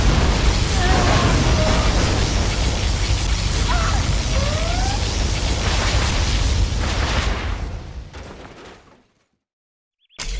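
A dense, loud synthetic blast from a particle cannon in Command & Conquer Generals Zero Hour. It rumbles in a continuous roar for about eight seconds, fades out and ends in silence before a brief burst returns.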